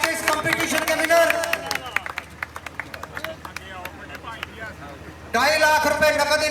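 Crowd at a Sialkot goat competition claps for the winner in sharp, scattered handclaps that thin out mid-clip, then a fresh burst of clapping at the end, with a voice talking over it.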